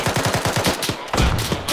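Enemy gunfire in the ArmA 3 military shooter: a rapid automatic burst of about eight close, sharp shots, then a brief lull and more heavy cracks.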